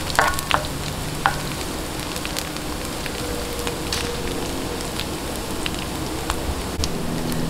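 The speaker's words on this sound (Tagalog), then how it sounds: "umpisahan na po natin yung paggigisa. Ayan. Tayin lang po nating mag-light brown yung ating bawang" Garlic sautéing in oil for Filipino pancit bihon, a steady soft sizzle and crackle with a few sharp pops near the start, continuous and close, no talking.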